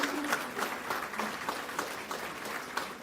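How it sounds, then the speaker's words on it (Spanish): Steady applause from a small audience at an awards ceremony, dense clapping continuing evenly for a few seconds with no voices over it. "Un aplauso para Vilma."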